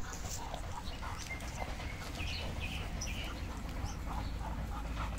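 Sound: Dobermann dogs playing and panting

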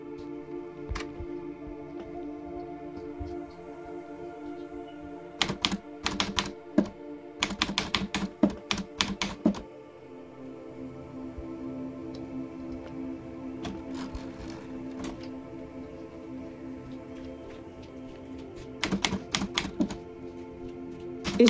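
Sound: typing on a vintage 1970 SCM Smith Corona Super G typewriter

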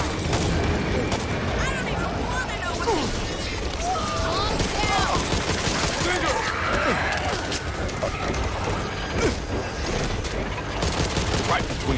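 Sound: gunfire in the video game Back 4 Blood

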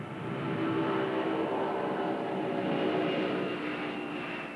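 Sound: Pan Am Clipper airliner taking off

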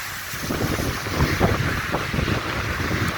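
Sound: strong river current rushing

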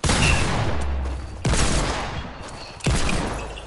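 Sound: Deagle and shotgun gunfire in video game Fortnite

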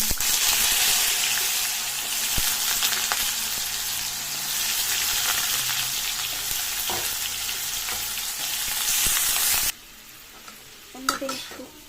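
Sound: cumin, bay leaf and potatoes frying in oil

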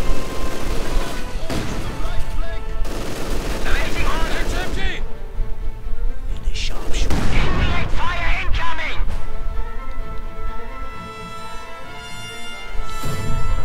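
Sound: mortar fire in a strategy video game

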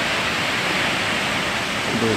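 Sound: Jatobá waterfall in Mato Grosso, Brazil

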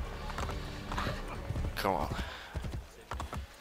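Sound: horse hooves galloping in video game Assassin's Creed Brotherhood

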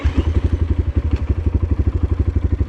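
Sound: motorcycle engine during wheelie practice

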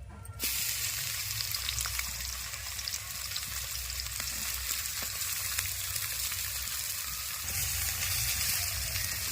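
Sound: chopped onion frying in oil

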